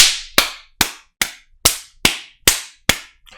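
Eight sharp, evenly spaced hand claps at a slow, steady beat, each loud and crisp with a quick decay, with no voices underneath.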